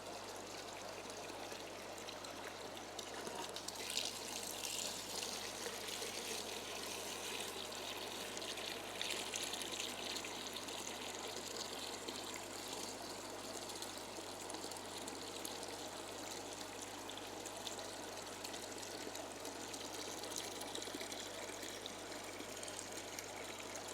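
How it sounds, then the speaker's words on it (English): Aquarium water from a planted tank drains steadily into buckets during a water change, a constant trickling, pouring wash that runs unbroken and fairly quiet throughout, with no talking. "so we're taking out roughly about 36 litres of aquarium water here"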